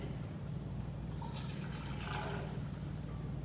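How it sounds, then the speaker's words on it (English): Half a cup of Jose Cuervo Blue Agave Silver tequila poured into a watermelon margarita mixture, a soft steady liquid trickle close by over a constant low hum, with no talking. "we're gonna go ahead and do a half cup and pour it right in."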